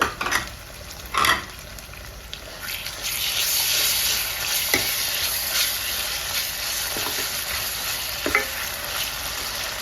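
Ginger garlic paste fries in oil in a pan for a country chicken curry. A steady, close sizzle runs the whole way through, with a few stirring scrapes and taps along the way.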